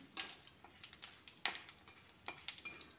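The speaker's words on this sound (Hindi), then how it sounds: "सभी को डाल देते हैं गरम तेल में" Whole spices, including cumin and a broken red chilli, crackle and pop faintly in hot oil with scattered sharp ticks and light stirring clinks throughout.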